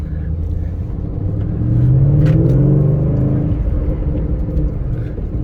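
A 2011 Shelby GT500 convertible V8 engine of over 750 horsepower rumbles and surges, rising in pitch for a hard pull then settling into a steady low drone, heard from inside at close range.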